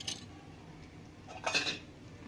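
A lid set onto a cooking pot of sago pudding, giving a short clatter of metal on metal, soft and close, with a faint scrape beforehand over a quiet kitchen background.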